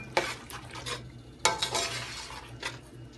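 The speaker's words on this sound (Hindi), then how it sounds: "अब यहाँ हम इसमें डाल देंगे चिकन, 1 किलो चिकन है ये" Chicken pieces, some boneless and some on the bone, added to a hot pot for Karachi biryani, giving sharp sizzling bursts as they drop in, with stirring and clinking of utensil against metal in between.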